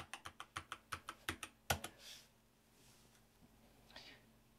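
A password goes in on a computer keyboard during a software install, a quick run of about a dozen crisp, close key taps. A final harder press ends the run, then comes quiet room tone with faint soft rustles.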